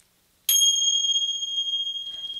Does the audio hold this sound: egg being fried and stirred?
no